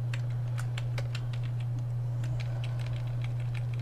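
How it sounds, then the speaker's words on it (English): Keys tapped on a Commodore 128 keyboard in a steady, fairly quick run of close, crisp clicks over a constant low hum, with no talking. "maybe 300 taps on the keyboard here"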